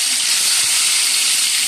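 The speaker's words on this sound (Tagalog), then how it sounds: "magprito na po tayo nitong maya-maya po" Maya-maya fish frying in hot oil gives a loud, continuous close-up sizzle, a dense steady hiss with faint crackles underneath and no talking.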